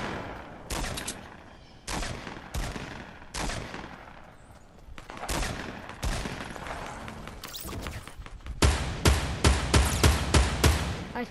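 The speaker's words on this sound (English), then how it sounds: "I shot someone" Gunfire in a Fortnite 50v50 match: loud bursts of rapid shots separated by gaps, quieter distant pops in between, and a fast, heavy volley near the end.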